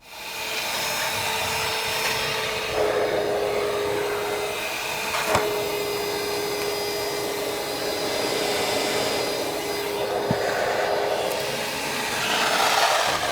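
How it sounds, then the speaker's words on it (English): A wet-dry vacuum runs continuously over damp, freshly scrubbed carpet inside a Range Rover, a loud steady whine with small shifts in pitch as the nozzle moves, heard alone. "we're going to give that a little bit of a vacuum now and see how that goes"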